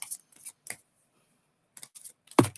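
Tarot cards being shuffled by hand, a few crisp riffling bursts separated by quiet pauses, close to the listener, ending in a louder snap.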